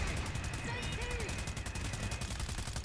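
Rapid automatic gunfire in Planetside 2, a dense, fast, evenly spaced string of shots that runs throughout at a moderate distance.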